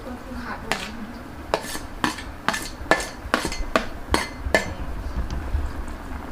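Utensils clink repeatedly against a metal pot as termite mushrooms go into a bamboo shoot curry, a series of sharp, close, irregularly spaced knocks over a low background hum.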